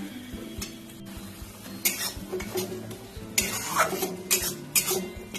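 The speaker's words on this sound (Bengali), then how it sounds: "আলুটা দিয়ে মশলাটা খুব ভালো করে কষে নেব।" Fried potatoes and spices are stirred in a pan for crab curry, with repeated scraping bursts of a metal spatula over a steady low sizzle, close and uneven in rhythm.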